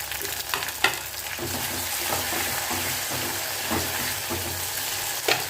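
Vegetables sauté in a pan with tomatoes added, giving an even, close frying hiss with occasional light clicks of a spatula against the pan.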